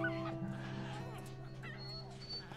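Three young puppies whimper and yip in a quiet room, thin high cries rising over a steady low hum.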